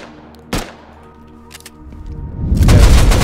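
Gunfire in the survival video game Rust, a single sharp shot followed by scattered distant pops, then a dense loud burst of rapid shots building at the end.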